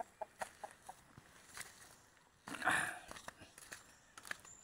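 On a farm, a laying hen gives a string of soft, quiet clucks close by, with a louder squawk midway.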